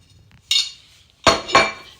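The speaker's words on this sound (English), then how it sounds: "use a normal tablespoon to mix all that in" A tablespoon clinks against a bowl while flour, baking powder, salt and caster sugar are mixed for American-style pancakes: one scrape, then two louder close clanks in quick succession, near and unaccompanied.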